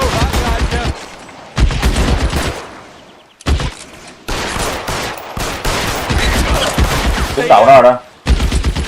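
Loud bursts of gunfire from the L.A. Noire shootout come in repeated rapid volleys separated by short pauses, close and dominant, with someone speaking Vietnamese between and over the shots.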